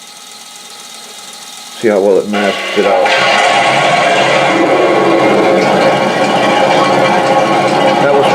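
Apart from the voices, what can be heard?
simulated tank engine sound from model Hetzer sound unit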